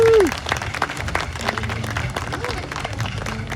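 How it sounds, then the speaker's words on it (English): Outdoor amphitheater crowd applauding a dance group's performance on Canada Day, loud sustained clapping mixed with cheering and crowd babble, with a brief whistle or whoop at the start. "So let's give them a round of applause."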